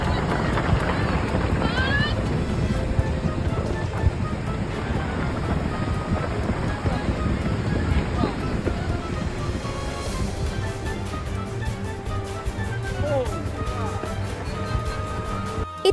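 Sea wind and waves roar around a waterspout over open water, a loud broadband rush of surf and gusts that stays constant throughout, with some scattered tonal sounds layered over the noise.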